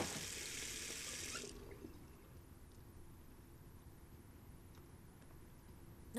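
Tap water running into a kitchen sink while dishes are washed in Beyond Two Souls, a bright hiss for about a second and a half, then a quiet room with faint clinks.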